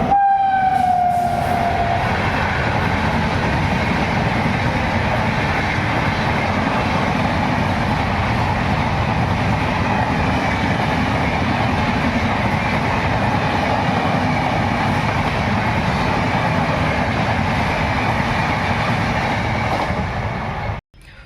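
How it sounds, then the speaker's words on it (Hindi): A train rushes past at high speed near a village, sounding a fading horn at the start, then a loud, sustained roar of wagons rattling by for about twenty seconds before ending abruptly. "तो देखा भाई आप लोगों ने कितनी स्पीड में यहाँ से ट्रेन निकलती है।"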